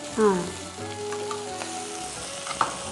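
Turmeric and ginger paste hits hot oil with curry leaves in a pan, giving a steady, close sizzle and frying hiss with a few brief stirring clinks.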